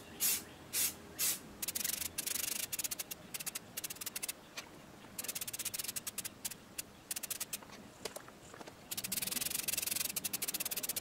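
A Hi-Point 995 carbine gets spray painted, with short hissing bursts from the spray can at first and then longer sustained sprays, close up with brief pauses between passes.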